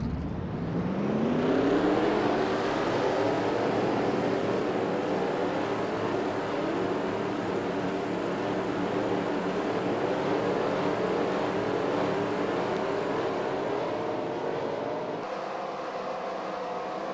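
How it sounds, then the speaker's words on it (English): Race car engines start and rev in a racing video game at a virtual Kansas oval, a loud, continuous drone that climbs in pitch at the start and then holds a sustained roar before a slight drop near the end. "Drivers, start your engines!"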